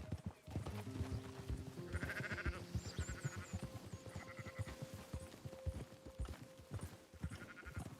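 Sheep bleat in short, repeated calls amid an outdoor scene in the video game Red Dead Redemption 2, with hoof clip-clop and low ambient noise running throughout at moderate distance.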